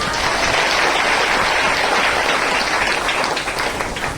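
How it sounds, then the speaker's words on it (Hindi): A church congregation bursts into loud, dense clapping during a Hindi-language sermon, a thick continuous wash of hands close by that holds strong for about four seconds. "इनके लिए जोरदार ताली बजाओ"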